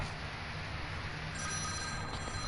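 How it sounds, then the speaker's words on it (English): A phone rings with an incoming call from an unknown number, a repeating electronic ring tone sounding steadily at moderate volume over a low background hum, with no speech. "Oh my gosh, I got another phone call."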